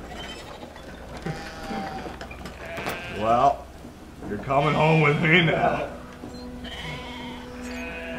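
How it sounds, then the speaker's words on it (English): Sheep bleating in a video game, two long wavering bleats close up in the middle, with a person talking over the game audio before and after. "I'm stealing sheep now, guys."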